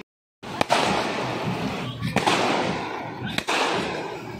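Loud firecrackers burst during a Ganpati immersion procession in a steady crackling roar with a few sharp bangs standing out, close by and continuous throughout, with no voices above the din.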